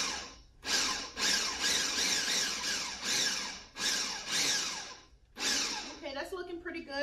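A food processor pulses in repeated short bursts, chopping peppers for pepper jam, five or six loud whirring bursts separated by brief gaps, followed by a quieter rattling of the chopped contents at the end.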